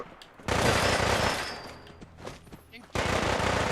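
Automatic gunfire as Gunners attack a settlement in Fallout 4 with Sim Settlements 2, loud dense bursts at the start and end with a quieter gap between, while someone talks over it.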